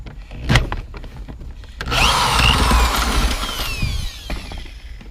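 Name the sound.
power tool removing seat bolt in Silverado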